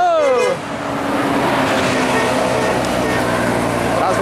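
A Transport Express Jaya bus on a road in Tebo sounds its horn in a loud warbling blast that glides down and then holds steady, with engine and traffic noise beneath and people talking close by.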